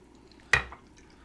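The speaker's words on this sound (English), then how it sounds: "Yeah, let's use the mini whisk." A mini whisk strikes and stirs a mixture in a bowl while cooking jajangmyeon, giving one short, close clatter that fades quickly in a quiet kitchen.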